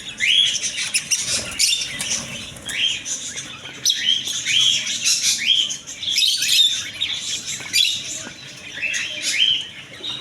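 Caged pet birds, including crested and prince birds, in a bird shop keep up dense, repeated high chirps and tweets that overlap steadily from start to finish, close and lively.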